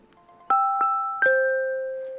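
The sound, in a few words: phone app notification chime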